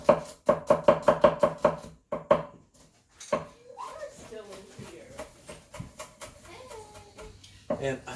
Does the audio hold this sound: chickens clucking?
no